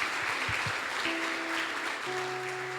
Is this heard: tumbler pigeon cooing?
no